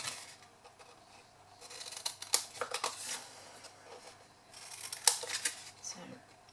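Scissors trim the square corners off a sheet of paper, with two clusters of crisp snips and rustling paper handling, quiet and close, and a soft voice talking between the cuts.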